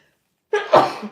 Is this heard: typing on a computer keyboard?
no